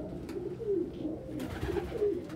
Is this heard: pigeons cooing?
yes